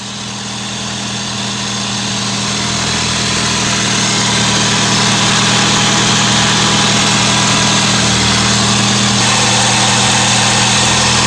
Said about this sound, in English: it sounds like there's a pulley that's spinning that's very dry